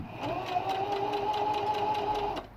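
A sewing machine stitches a fabric mask in one close, steady whirring run of rapid needle strokes lasting a couple of seconds before it stops abruptly.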